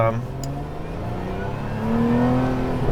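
A Lotus Emira sports car drives along, its engine note humming steadily and rising in pitch toward the end as the car accelerates, heard from inside or close by.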